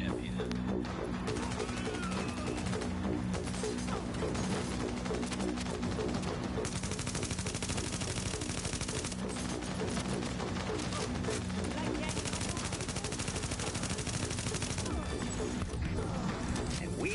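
Gunfire in Tom Clancy's The Division rattles almost without pause, dense bursts and impacts on a city street, with players talking over the shooting.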